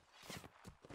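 Horse hoofbeats from a mounted crossbowman in a medieval battle video game, a quick faint run of clip-clop steps over a noisy, busy background.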